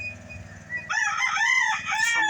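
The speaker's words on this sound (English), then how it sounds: "look at that white rooster, man" A white gamefowl rooster crows once, loud and close, in a long wavering call that follows a quieter stretch of low farmyard background.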